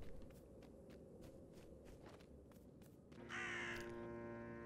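A crow in the Drake Hollow video game gives a single sharp caw near the end, after a run of soft rhythmic footsteps on a quiet background.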